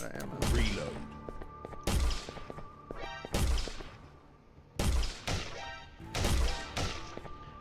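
Rifle gunfire in a western-style video game, several loud sharp shots with echoing tails spaced about a second apart, a mechanical reload clatter among them.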